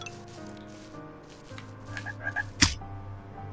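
Frogs in the video game The Purring Quest: soft, croaking chirps over a low game hum, a few brief squishy pops and one sharp hit near the end.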